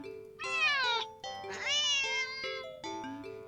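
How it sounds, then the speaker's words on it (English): Video game cat meowing sharply, a run of four or five insistent, pitch-bending meows in close succession, each loud, near and clear with short gaps between, no other sound around them. "the cat meows sharply at you"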